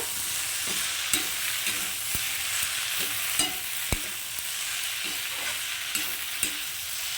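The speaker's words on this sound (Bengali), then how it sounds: "এবার এটাকেও খুব ভালো করে মিশিয়ে নেব" Data chorchori, a stem curry seasoned with sugar, chilli and chopped coriander, is stirred in a hot pan. A constant gentle sizzle runs under regular scraping strokes from the spoon, with no voices.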